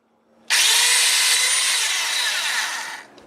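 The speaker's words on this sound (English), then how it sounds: "another clamp near where I'm about to drill to avoid delaminating the insulation again" A power drill bores a hole through a clamped breadboard power strip. The high whining grind starts abruptly, holds steady and loud for about two and a half seconds, then stops.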